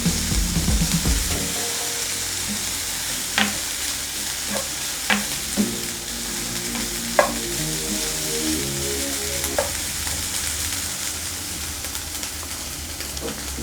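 Bacon frying in a pan until crispy, a steady loud sizzle broken by sharp pops and occasional scraping stirs, with no voices.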